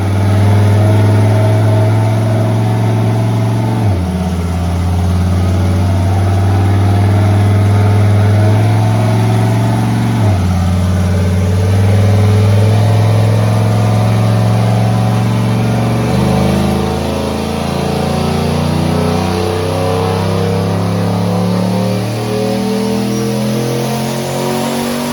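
A small turbocharged engine with an oversized turbo, tuned on a dyno day with boost raised, revs loud and close, climbing through the rpm range with sharp drops between gear pulls and a whistling turbo whine on top.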